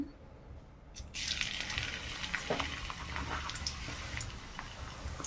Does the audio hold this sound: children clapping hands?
no